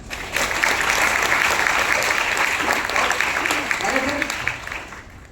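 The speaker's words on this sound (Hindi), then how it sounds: "एक बार मैम के लिए जोरदार ताली।" Audience at a motivational seminar applauding a woman, loud sustained clapping from a sizeable crowd that holds steady and begins to thin near the end, with a voice speaking over it briefly.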